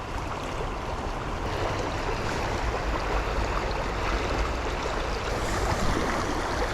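Fast, shallow water of an urban trout river in Utah rushing over rocks, a full, steady roar close by with no talking.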